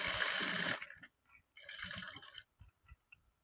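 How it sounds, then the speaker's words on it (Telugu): Sewing machine stitching tucks on a blouse, with two bursts of steady machine whirring separated by a pause, then a few quiet clicks and handling sounds. "ఈ టక్స్ దగ్గరికి స్టిచ్ చేసుకోవాలి"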